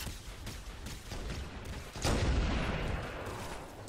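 Plasma rifle fire from Halo 1 during a firefight, a dense run of loud energy shots and bursts with a heavier blast midway, continuing rapidly without a break.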